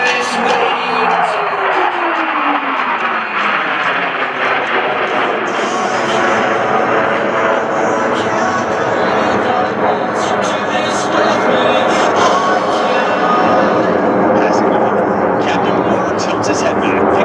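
US Navy Blue Angels jets flying in formation over an air show at Joint Base Andrews, a loud continuous jet roar with a falling engine tone early on, sustained throughout under music and announcer talk.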